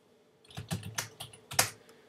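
Quick keystrokes on a computer keyboard while entering a Gradle command, about five or six crisp clicks in an uneven rhythm, close and fairly quiet, with no talking.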